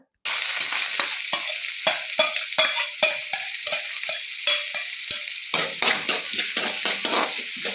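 Onion and green chilli sauté in hot oil for spinach thoran, a loud close sizzle broken by repeated scraping stirs of a spoon against the pan.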